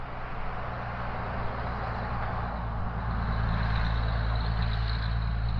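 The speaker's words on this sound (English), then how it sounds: "And this is what a car will sound like." Out on a rural property, a car on the nearby road makes a low, steady rumble of engine and tires that swells gradually as it draws closer, with no one talking.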